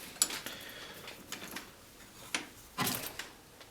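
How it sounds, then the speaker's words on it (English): A wrench works a 14mm bolt on a bicycle crank, giving a series of faint metallic ticks and clicks with a louder scraping clank near the end, with no talk. "You take the wrench,"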